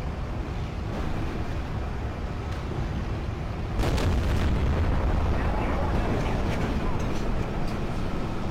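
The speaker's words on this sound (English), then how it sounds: "God, I hate artillery." Artillery explosions in a dense battle, continuous heavy rumbling with a louder burst partway through and scattered distant booms, speech faintly mixed in.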